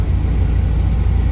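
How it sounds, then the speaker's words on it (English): A hot rod car engine idling just after being started for the first time in about a month, a loud, steady low rumble that sits close and continuous with no speech over it. "I haven't started this car in probably, I don't know, a month. So, anyway, she's running."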